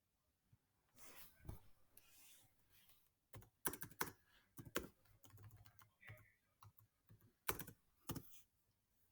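Keys tapped on a calculator or keyboard while working out a compound-interest problem, quick irregular clusters of small clicks, close and faint, with short pauses between bursts.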